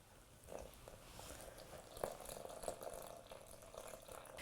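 Water trickles and splashes into a Thermomix bowl for walnut bread dough, a soft, steady pour with small drips and splashes, faint and close.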